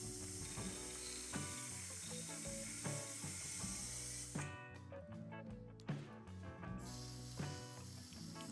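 A hand tool clicks in short ratcheting bursts while loosening a motorcycle's rear brake master cylinder. The close mechanical clicks play under background music.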